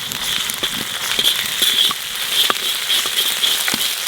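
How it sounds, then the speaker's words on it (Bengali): Ginger paste fries with onions in a hot pan, giving a steady close sizzle with scattered crackles and pops, no talking. "আদাটা একটু ভাজে নিচ্ছি,"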